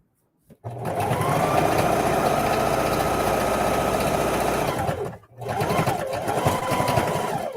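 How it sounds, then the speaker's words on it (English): A sewing machine stitching a lunch tote bag runs in a fast, steady whir for several seconds, stops briefly, then starts again, loud and close with no talking over it. "you could always go ahead and do another stitch on top of that stitch to make it a little bit stronger"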